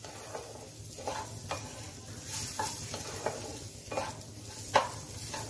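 A spoon stirs khichuri in a pot over medium heat, with soft scrapes and taps against the metal over a low sizzle, close but fairly quiet.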